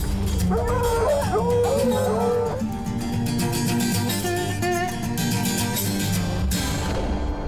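A pack of hunting hounds on a fresh mountain lion track bays and howls together in long, wavering cries, loud and continuous over steady outdoor noise with a faint tonal background.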